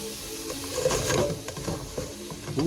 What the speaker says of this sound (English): I want to be able to scrape up all of that, you know, meat goodness in the bottom of the pan here